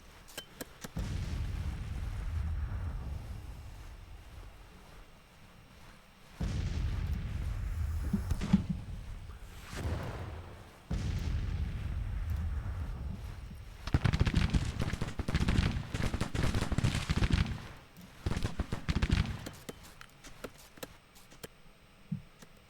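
Rumbling bursts of artillery and gunfire in a Civil War battle video game come in several long, dense volleys separated by quieter gaps, with sharper crackling shots in the later stretches.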